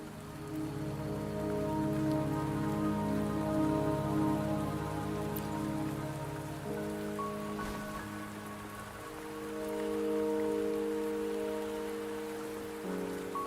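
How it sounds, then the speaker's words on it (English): Steady rain pattering on a surface in the video game Wuthering Waves, with sustained tonal music underneath, continuing at an even level throughout. "the rain won't last much longer"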